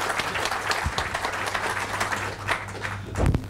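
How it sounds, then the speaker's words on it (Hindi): Training seminar audience in Mumbai applauding a speaker called to the stage, a busy, fairly close patter of many hands clapping that carries on steadily throughout. "जोरदार तालियां भरत राजगुरु जी के लिए।"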